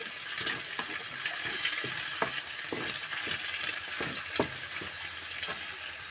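A cracked egg sizzles and crackles steadily in a hot pan, with scattered spatters and light utensil taps over the continuous frying hiss.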